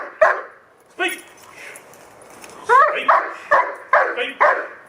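A dog barks on a speak command during protection training, a few spaced barks followed by a rapid burst of five or six, close and loud, with a person's commands interleaved.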